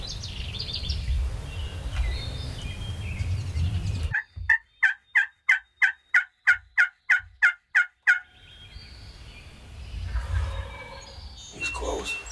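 A wild turkey gobbles in spring in Iowa, a rapid run of about a dozen sharp, evenly spaced pulses, loud and fairly close, set between stretches of low rumbling background noise.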